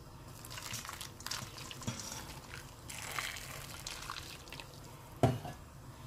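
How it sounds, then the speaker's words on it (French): Hot water poured over nkui in a container, a steady wet splashing and trickling stream with a few drips, moderately close and fairly soft, with no talking. "Maintenant, je vais verser de l'eau chaude."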